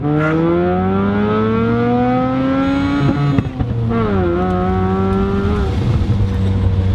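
A Mazda RX7 rotary engine revving hard and loud up close, its buzzing tone climbing steadily, dipping sharply at a gear change with a brief jolt, then rising again through the next gear.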